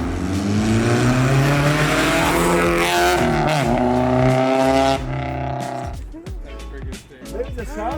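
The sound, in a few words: Honda K24 swapped BMW E30 engine revving on test drive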